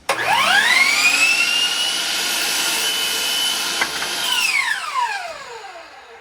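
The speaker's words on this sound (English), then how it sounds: "Make sure your hands are clear of the blade and make a cut" A laser-guided saw cuts through a shiplap board for a wall project: the blade spins up with a rising whine, bites steadily through the wood for about four seconds, then winds down, loud and close with no voices.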